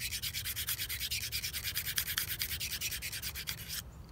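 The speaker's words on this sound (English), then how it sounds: "This is my Smith's sharpening stone." A knife's thin stainless blade is drawn over a Smith's sharpening stone, which has a coarse side and a fine side. Quick, steady rasping strokes repeat about four times a second, close and fairly loud, with no talk.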